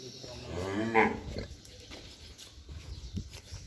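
A newly bought bull gives a single low moo, faint and somewhat distant, with quiet farmyard background and low voices around it.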